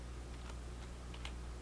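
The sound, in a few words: typing on a computer keyboard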